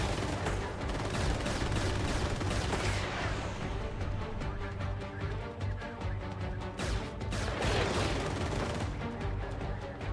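Fighter aircraft gunfire in Xenonauts 2, dense rapid bursts of shots over a steady engine roar, loud and continuous with brief heavier blasts.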